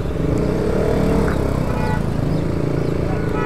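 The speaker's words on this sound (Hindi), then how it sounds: "ये देखो ट्रैफिक कितना है यहाँ से" Road traffic with cars and motorcycles passing, a steady loud roar of engines and road noise with occasional higher engine whines and a faint horn, heard from close by.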